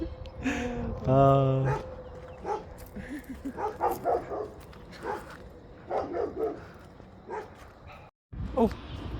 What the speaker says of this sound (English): we're always annoying the town dogs